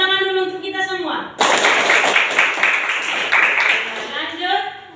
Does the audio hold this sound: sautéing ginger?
no